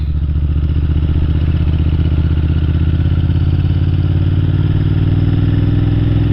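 Steady, loud motorcycle engine drone with a constant low rumble and clattery mechanical texture, continuous throughout without pauses.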